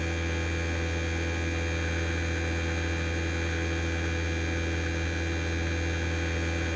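A vacuum pump evacuating the air conditioning system of a Toyota Prius runs with a constant, steady mechanical hum that drones without change throughout.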